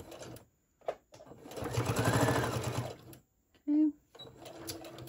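A sewing machine stitches a Christmas tote, running in a long steady burst with shorter bursts around it, close and fairly loud, and a brief tonal squeak near the end.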